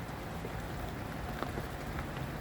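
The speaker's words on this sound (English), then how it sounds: "Full sunshine and it's raining." Light rain falling in full Florida sunshine, a soft, even patter of drops on surfaces heard as faint, steady hiss throughout.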